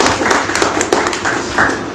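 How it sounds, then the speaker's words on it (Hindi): Audience applause at a World Theatre Day event on theatre's role in social change, a steady wash of clapping with scattered sharper claps over a low room murmur. "एक बार जोरदार तालियां सुकेश राणा सर"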